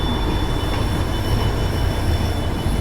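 Steady, loud rolling rumble of the Rajdhani Express on the rails as it pulls out of New Bongaigaon Junction behind a WAP7 electric locomotive, a continuous wheel-and-track roar with a faint high squeal running over it.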